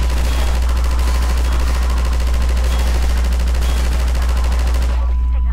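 Rapid, continuous mounted turret fire cutting down Combine soldiers in Half-Life 2, a loud rattling machine-gun burst with a heavy low hum underneath that stops abruptly near the end.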